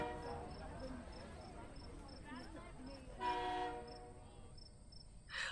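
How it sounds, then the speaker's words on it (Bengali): A steam train's whistle in a spoken horror tale set in late British-era Bengal, a brief shrill blast over rumbling carriage noise and rhythmic wheel clatter, with a narrator's voice underneath. "ট্রেনটা বাঁশি দিল"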